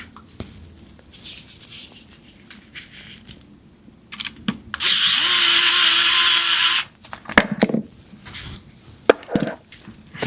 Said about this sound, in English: Little electric tool with a cool little light.